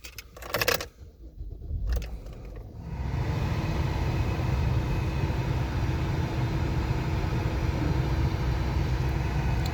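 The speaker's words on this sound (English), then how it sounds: "Go ahead and start the vehicle up here." Keys jingle briefly before the 3.6L V6 in a 2012 Chevy Traverse LS AWD cranks and catches, then settles into a steady, even idle for the rest of the clip.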